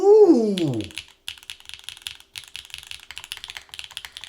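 Fingers type on a wooden keyboard prototype with epoxy parts, a quick irregular run of close, crisp key clacks with short pauses, after a brief voiced exclamation at the start.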